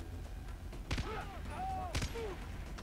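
Two loud gunshots a second apart from a weapon in the shooter game Far Cry 3, sharp sudden bangs over a low game background, with someone speaking between them.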